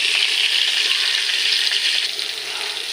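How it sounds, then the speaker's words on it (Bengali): Pieces of pointed gourd fry in hot oil, giving a loud, steady, close sizzle that eases slightly toward the end. "এবার আমি পটলগুলো একটু ভালো করে ভেজে নেব প্রথমে।"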